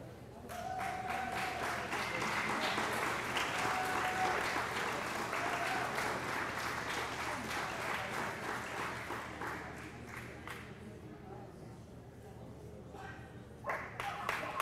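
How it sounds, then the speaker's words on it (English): An audience applauds at a UKC Premier Nationals Best in Show dog show, steady and dense clapping spread through the hall, heard at a moderate distance and easing off toward the end, with an announcer's voice talking over it. "I love it when everybody claps"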